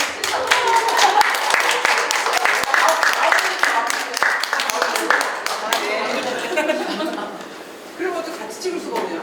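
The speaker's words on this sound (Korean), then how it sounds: "박수." An audience at a Jungnang community village event claps in a lively round, sharp close claps fading and thinning toward the end, with chuckles and voices mixed in.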